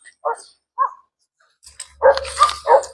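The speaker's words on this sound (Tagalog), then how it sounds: "Kaso may mga aso. Patay tayo nito. Ayun, no? Tahulan ng tahulan, no?" Dogs bark outdoors, a few scattered single barks at first, then a louder, closer run of barking with a low rumble underneath.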